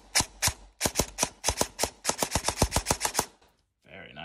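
An upgraded Tokyo Marui Socom M14 airsoft rifle, its rebuilt gearbox powered by a 7.4 V lipo battery, fires close by: a few snappy single shots, then a rapid full-auto burst of sharp clicks, ending in a brief mechanical whir.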